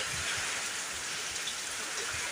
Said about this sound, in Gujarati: આ 3 દિવસથી એક ધારો વરસાદ ચાલુ છે